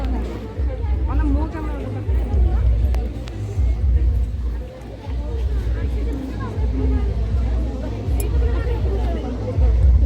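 Dense crowd hubbub at the Adivasi Mela tribal fair in Bhubaneswar, with many overlapping voices and steady babble close around, plus occasional vehicle noise in the background.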